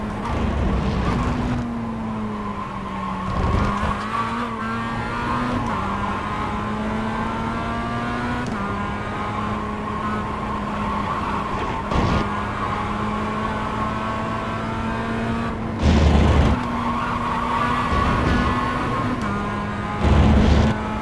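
Race car lapping a circuit, engine droning loud and close with repeated pitch shifts as it brakes and accelerates through corners, a few sharper bursts suggesting a slide on corner entry; no speech.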